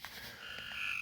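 A frog croaks inside a cattle panel greenhouse, a few short chirps rising into a steady, high trilling call, near and clear with no talking.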